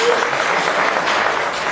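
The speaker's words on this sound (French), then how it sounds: "il faut applaudir" Clapping from an audience at an outdoor ceremony for African traditional medicine day, a brief dense burst of many hands applauding together, loud and close, with a faint voice under it.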